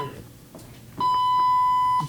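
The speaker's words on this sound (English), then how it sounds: "Inactivity alarm. You press stop. Press any key to silence." An inactivity alarm sounds a steady electronic beep tone that switches on halfway through and holds loudly for about a second, with faint room noise and sporadic clicks before it.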